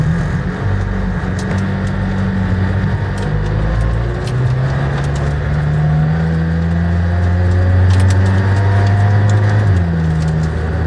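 McLaren Senna track-prepared sports car with raised suspension, running in comfort powertrain mode on an uneven road, its engine droning steadily and close with smooth gear changes shifting the pitch up and down, no talk.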